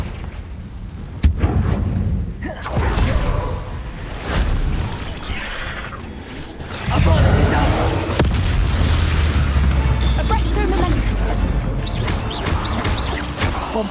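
Confringo spell blasts in Hogwarts Legacy, a series of heavy booming explosions with crackling debris, loud and close, one big impact early and a sustained rumbling barrage later.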